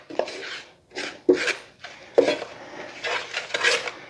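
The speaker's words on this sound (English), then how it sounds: "Now stir it up again" A spoon stirring sausage gravy thickened with flour, salt and black pepper in a pan, with intermittent scraping strokes against the metal in uneven bursts, close and fairly clear.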